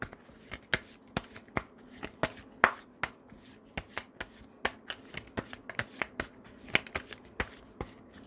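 Tarot cards being shuffled by hand in a quiet room, a steady run of sharp riffling snaps and soft slides repeating closely for several seconds with no talking.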